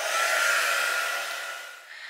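A heat tool or hair dryer dries homemade spray ink on a crafting project, blowing a steady close airy whoosh that eases off slightly toward the end.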